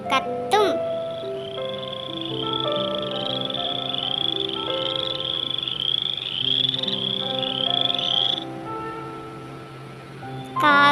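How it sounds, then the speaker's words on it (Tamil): A frog croaks in a steady, continuous chorus of raspy, buzzing calls lasting around ten seconds, loud and close, with no other sounds competing. "தவளை கத்தும்."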